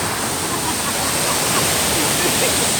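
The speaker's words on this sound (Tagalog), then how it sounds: "grabe yung buhos ng tubig" Baul Falls pours heavily in a constant, loud roar of rushing water that fills the scene without letup.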